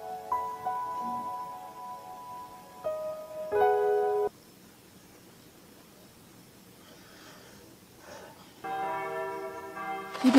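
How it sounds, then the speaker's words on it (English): Rolling church bells in the visual novel game Narcissu, sustained ringing tones that sound in separate bursts with quiet gaps between, moderately loud and resonant. "The rolling sound of bells."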